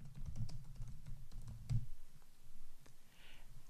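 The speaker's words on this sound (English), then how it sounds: "And I'll type something." Soft typing on a computer keyboard: a quick run of light, muffled key clicks, dense at first and then sparser, heard close against a faint room hum.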